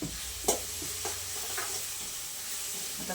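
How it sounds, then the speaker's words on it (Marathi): Onion roasts in a hot pan with a steady, close sizzle, and a few spaced scraping stirs of a spatula are heard against the pan. "आता कांदा चांगला तांबूस कलर येऊपर्यंत आपल्याला भाजून घ्यायचा आहे."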